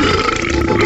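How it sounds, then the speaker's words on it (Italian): A loud, rough belch lasting just under a second, alone and close up, following a meal of peppers washed down with a mug of beer at a Christmas gathering in an earthquake-hit area. "Maremma rutto libero."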